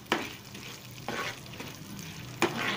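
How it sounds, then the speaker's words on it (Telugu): Chana dal dropped into hot oil in a pan for chutney, a soft steady sizzle with a few louder stir and scrape bursts, close and alone without talk. "ఆయిల్ వేడయ్యాక ఇందులో శనగపప్పును వేసుకోవాలండి"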